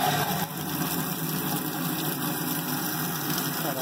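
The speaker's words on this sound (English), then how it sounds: "now we're going to run water down onto the top of the acrylic." Water running steadily down onto the top of an acrylic sheet, a continuous rushing, splashing flow heard close and alone without pause.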